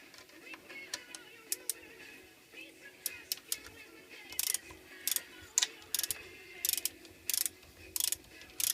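A 300 AAC Blackout XCR-L rifle being reassembled gives off close, sharp metallic clicks and ratcheting snaps in irregular bursts, some clustered in quick runs, over a low background hum.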